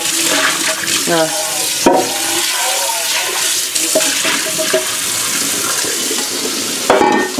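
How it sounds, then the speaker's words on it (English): Hot water runs and splashes steadily during rinsing, with people talking over the flow and a couple of sharp knocks. "Now let's rinse it. Yeah. Hot water."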